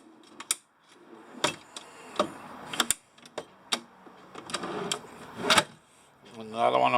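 A wooden drawer slides and clunks into place in a truck camper fit-out, with several sharp knocks and rattles at close range while someone talks in between.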